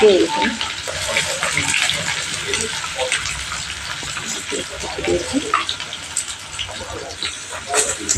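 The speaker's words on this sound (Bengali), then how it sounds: "পেঁয়াজগুলো ভালো করে ভেজে নিচ্ছে" Onions frying in a pan for a home-cooked chicken dish, a steady broadband sizzle with bursts of stirring, close and fairly loud, with a voice talking over it now and then.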